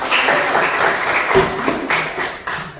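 Students in a classroom clap for a classmate's correct answer during a short-story lesson, a brief burst of mixed close and scattered hand claps with a few louder taps, nearly alone.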